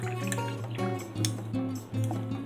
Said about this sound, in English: pour some tea in there